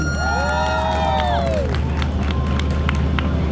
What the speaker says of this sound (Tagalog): Pinakamalakas sa palakpak siyang panalo.